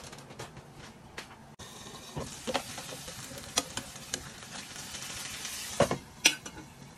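Chicken breast sizzles and crackles steadily in a covered frying pan, with soft pops and occasional louder clinks of a lid or utensil, close and with no talk.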